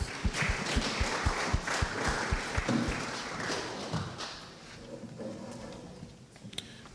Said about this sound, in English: Let's give a round of applause to the Hereford County Bears.